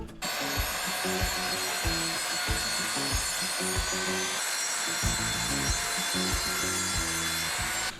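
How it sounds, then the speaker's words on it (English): Circular saw cutting through waterlogged, fibre-soaked timber on an off-grid homestead in Wales, a loud continuous rough grinding cut with repeated surges and dips as the blade bites, with no talking. "Yes, the circular saw is faster, definitely doesn't find it easy"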